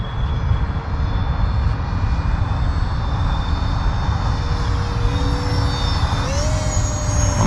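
An E-flite F-15 Strike Eagle RC jet makes a sustained whining pass overhead, its tone steady and then rising toward the end. The whine stays loud over a constant wind-blown rumble.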